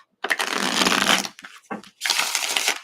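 Tarot cards riffled in two close, crisp bursts, a long ruffling shuffle followed by a brief pause and a second shorter shuffle, loud and dry against a quiet room.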